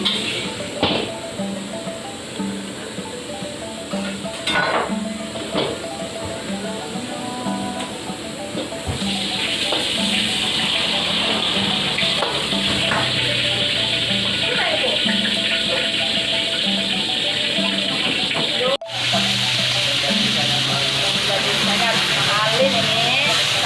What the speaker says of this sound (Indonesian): Ada goreng telurnya.